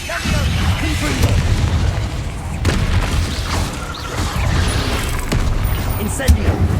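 A Confringo fire spell blasts off in Hogwarts Legacy amid a string of booming magical impacts and bursts, loud and dense over several seconds.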